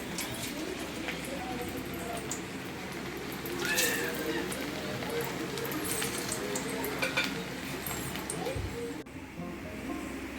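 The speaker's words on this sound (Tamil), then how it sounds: "இப்போ ஃப்ரெஞ்ச் ஃப்ரைஸ் பண்ணிட்டுருக்கேன்." French fries fry in a pan at home, a steady, fairly loud sizzle running throughout with occasional utensil clinks.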